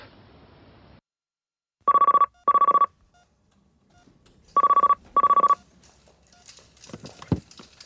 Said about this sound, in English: Hearing that dial tone was the longest 10 seconds of my life.